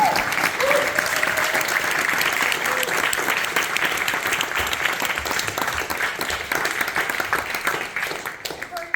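A steady wash of audience applause fills a talk venue at Nottingham Contemporary, sustained and dense throughout with no break.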